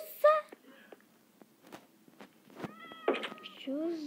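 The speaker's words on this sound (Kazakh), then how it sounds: "Ой, мысық сатып алғансың." A newly bought cat meows several times indoors, short close cries scattered between quiet stretches and soft rustles, with whispered voices faintly underneath.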